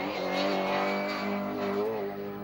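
Mini Cooper S rally car on an Irish rally stage, its engine revving hard and close, pitch climbing and dipping through gear changes as it drives past.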